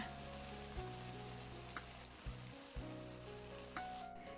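Steady sizzling of oyster mushrooms frying in butter in a pan, with a few soft clinks and stirring scrapes, close and continuous.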